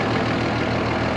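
A steady, low rumbling truck engine idles evenly without revving, a continuous deep drone close by, with a little noise from a heavy clutch.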